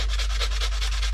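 Sandpaper rubs back and forth across a small part on a Traxxas Slash drag car build, a close, steady rhythmic scratching of about five strokes with no talking.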